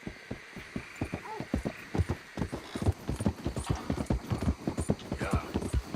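A horse in Red Dead Redemption 2 clip-clops at a steady walking pace, hooves striking in a quick even rhythm, close and clear, continuing without pause.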